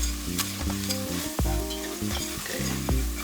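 A roux of flour and fat sizzles loudly in a pan while being stirred, with a dense hiss and repeated scraping strokes, close up and free of speech.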